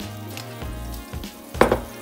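Minced garlic dropped into a pan of melted butter, giving a soft sizzle that swells to a brief bright crackle near the end, close and fairly quiet.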